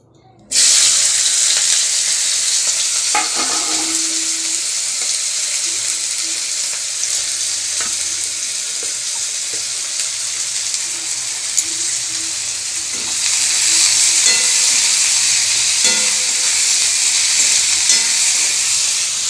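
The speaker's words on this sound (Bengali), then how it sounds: "এবার পেঁয়াজটা ছেড়ে দেবো।" Onions dropped into hot oil after potatoes were fried, a loud steady sizzle that holds for the whole stretch with occasional stirring clinks, the hiss swelling brighter near the end, no talking.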